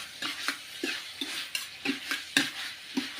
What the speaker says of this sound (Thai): ผัดให้เครื่องปรุงของเรานะครับ ซึมเข้าไปในเนื้อหมูเนาะ